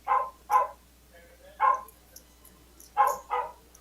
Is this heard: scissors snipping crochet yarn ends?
no